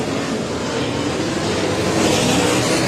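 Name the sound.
sprint car race engines on dirt speedway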